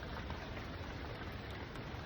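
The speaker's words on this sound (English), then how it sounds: "again, it is raining." Steady rain falling at a lake campground at Kerr Lake, a soft, even broadband hiss that fills the whole moment with no breaks and no voices.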